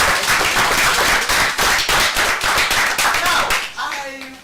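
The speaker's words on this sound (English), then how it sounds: "A round of applause for yourself." A group breaks into applause, a dense burst of rapid hand claps that holds strongly for several seconds and then quickly thins out and fades.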